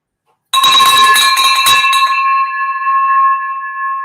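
A bright bell is struck once and rings out loud and alone, its clear metallic tone lingering and slowly fading after the strike.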